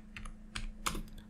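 A handful of quick computer keyboard keystrokes in a short irregular burst, close and fairly quiet over a low steady hum, with no voices.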